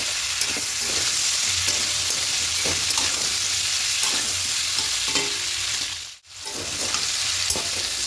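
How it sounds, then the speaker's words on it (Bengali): Masoor lentils are stirred and fried with potatoes in a pan for a peas-and-poppy-seed potato dish, giving a steady close sizzle with soft stirring scrapes throughout and one brief hush near the end. "এবার মসুরি দিয়ে আরও বেশি হালকা নাড়াচাড়া করে দেবো"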